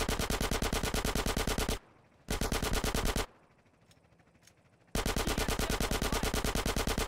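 Rapid automatic gunfire from GTA San Andreas Remastered, loud and continuous bursts with two short pauses, one nearly silent gap and another holding faint distant noise before the shooting resumes.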